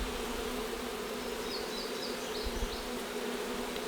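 Steady insect buzz of honeybees swarming around an opened beehive frame in an apiary, a dense continuous hum with faint higher whines drifting through, no talking.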